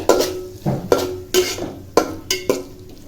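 Soybeans stirred in a cooking pot for a potato, soybean and egg biryani, a spoon scraping and knocking against the pot in about six distinct strokes, close and fairly loud, with a faint sizzle underneath.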